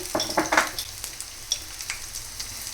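Crushed garlic cloves and urad dal crackling in hot oil, a quick burst of spitting pops at first, then a gentle steady sizzle with scattered small crackles, close up and without speech.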